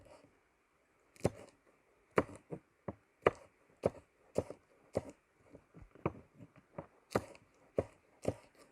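Knife chops through green chili on a cutting board, a series of sharp, close, irregular taps spaced about half a second to a second apart, loud against a quiet background with no talk.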